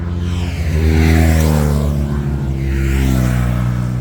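Gendarme motorcycles and cars roar past at the Tour de France in a loud, close, continuous rush of engines. The sound swells and fades as vehicles go by one after another, with no talk.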